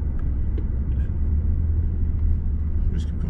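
A car driving slowly with a learner teenager at the wheel, heard from inside as a steady low engine and road rumble, fairly quiet, with a few faint clicks and a brief higher noise near the end.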